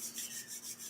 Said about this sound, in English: Rubbing your palms, heart high, chin lightly in, get it going, light that fire.